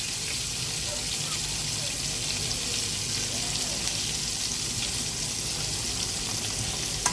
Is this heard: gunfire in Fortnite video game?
no